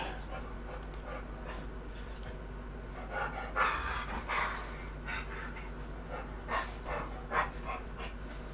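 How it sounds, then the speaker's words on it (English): A dog pants softly as it walks into a room, quick breathy huffs over a steady low hum, with a few slightly louder puffs, no talking. "I start talking and the doggy walks in."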